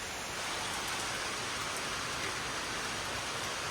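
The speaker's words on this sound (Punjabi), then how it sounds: "ਆਹ ਬੱਦਲ ਲਈ ਮੀਂਹ ਪੈ ਰਿਹਾ ਆ" Steady rain pours down outdoors over farm fields, a dense even hiss of falling water, constant and unbroken throughout.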